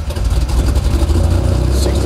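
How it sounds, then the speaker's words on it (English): A Pontiac GTP with an L26 block and XP cam, running on E85 with full exhaust and cutout, rumbles loudly and unevenly at close range just after startup, its engine pulsing low and rough. "full startup on E85 with an XP cam"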